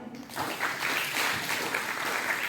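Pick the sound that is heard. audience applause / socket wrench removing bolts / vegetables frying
audience applause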